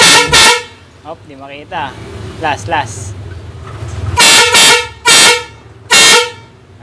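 Loud aftermarket car horns, a PIAA, a Bosch Evolution and a Bosch Striker, blasting in short piercing honks close by, a pair at the start and three more near the end, with someone talking in between.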